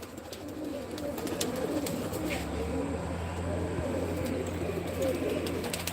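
Several male pigeons coo in a loft, overlapping low throaty calls that continue steadily throughout, close by, with faint rustling and clicks.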